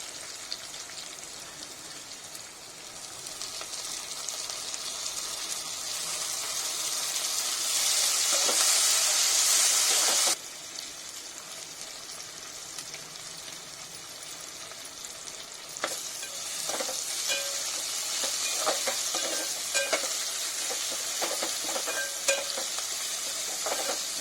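A bay leaf fries in hot oil for fish biryani, giving a steady close sizzle with occasional stirring, swelling louder for a few seconds midway before settling back.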